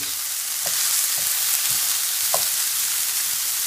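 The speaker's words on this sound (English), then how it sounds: "Cauliflower goes into the pan like so." Riced cauliflower dropped into a hot pan sizzles steadily with a broad frying hiss, a few soft stirring clicks and scrapes scattered through it, close and fairly loud with no talking.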